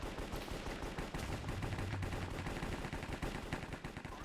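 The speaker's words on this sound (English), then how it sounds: "He shot me through the wall." Gunfire in a video game, a shot coming through a wall during a multiplayer match, heard as a rapid, dense run of loud cracks and bursts that continues steadily through the whole stretch.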